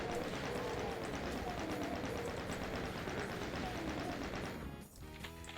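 Rapid, continuous chain gun fire in Doom, a dense hammering burst running loud and steady for nearly five seconds before abruptly cutting off.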